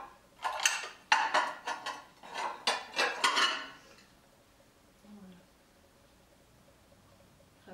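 A quick run of light clinking and clattering as glass plates are handled and set down, close and bright, then fading to near silence.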